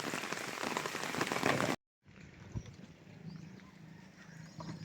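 Steady rain pattering on a fish pond, close and even. It cuts out briefly, then resumes more softly with a few heavier drops.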